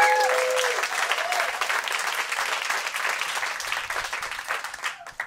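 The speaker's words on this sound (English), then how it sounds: "Give yourselves a round of applause." A stand-up comedy crowd gives itself a round of applause, a full, dense burst of clapping and some cheering that carries on for a few seconds before tapering off.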